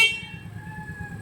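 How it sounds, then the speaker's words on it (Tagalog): A single short, steady electric beep sounds from the horn of a 200cc UTV buggy, fairly faint over a low background hum. "So, kabila. Busina."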